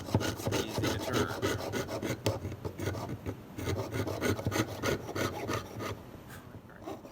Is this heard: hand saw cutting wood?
yes